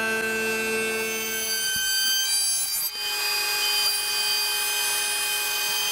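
Slab flattener with a 2-inch cutter bit working a wild cherry slab, a steady high whine with tonal hum, one sharp knock partway through, then continued cutting drone.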